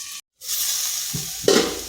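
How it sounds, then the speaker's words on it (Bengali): Potatoes fry in oil in a pan for a vegetarian potato curry, a steady close sizzle after a brief silent cut, with scraping stirring sounds near the end. "আলুগুলোকে একটু লাল লাল করে ভেজে নেব"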